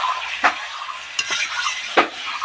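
Mutton sizzles in hot mustard oil while a utensil stirs and scrapes the pan in a few sharp strokes, close and clear, with no talking.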